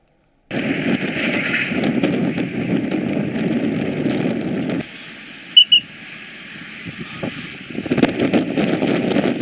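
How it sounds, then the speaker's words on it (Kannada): A boat on the Krishna River during heavy monsoon rain gives a loud, steady rumble with wind buffeting, drops briefly midway with a couple of sharp knocks, then surges back. "ಕೃಷ್ಣಾ ನದಿಯಲ್ಲಿ ಬೋಟ್ ಮೂಲಕ ಸಂಚಾರ ನಡೆಸಿ ಇವತ್ತು ಪರಿಶೀಲನೆಯನ್ನು ನಡೆಸಿದರು."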